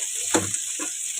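Pointed gourd fries in a pan with a steady close sizzle. A few brief scraping or stirring strokes come through, and no one talks.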